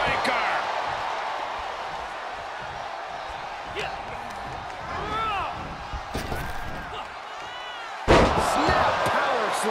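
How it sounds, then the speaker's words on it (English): Neckbreaker slam in WWE 2K23, Shawn Michaels versus Bret Hart at WrestleMania 12: a heavy body impact on the mat over steady crowd noise and commentary, with a sharp thump near the end. "Neckbreaker!"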